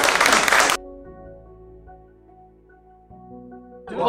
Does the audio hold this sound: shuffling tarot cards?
no